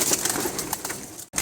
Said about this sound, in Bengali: মাশাআল্লাহ এই কবুতরটা দেখেন এই যে উপরে গিয়ে বসছে